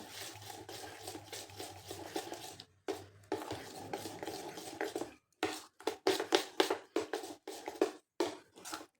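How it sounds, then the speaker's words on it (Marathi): Rice batter for Konkani-style amboli is whisked in a bowl by hand, making quick rhythmic stirring and tapping strokes in short bursts with brief pauses, fairly quiet and close. "ह्याला थोडं फेटून घ्यायचे एक मिनिटभर"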